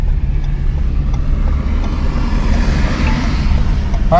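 A car cruising steadily at 40 in third gear during an evening drive: a constant low engine and road drone with some wind rumble, heard from inside the cabin with no break.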